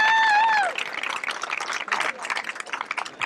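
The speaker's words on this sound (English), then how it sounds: "A big applause!" Applause from a small group, a brief burst of clapping that follows a high tonal whistle-like sound at the start and continues as uneven, moderately close hand claps.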